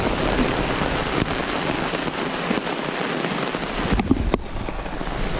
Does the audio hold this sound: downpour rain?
yes